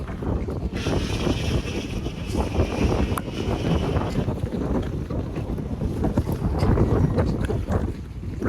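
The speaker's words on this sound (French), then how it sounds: "Plus on avance, il y a un très fort vent." Strong wind buffeting the microphone with a deep, rumbling roar that surges and eases, heard outdoors in Genoa with no talking.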